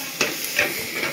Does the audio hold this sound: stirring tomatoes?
yes